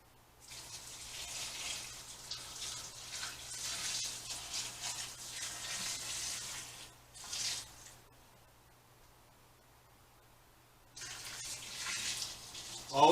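Brine is poured gently into a jar of fermenting dill pickles, a soft, steady liquid wash that runs for several seconds, pauses briefly, and resumes near the end. No one speaks.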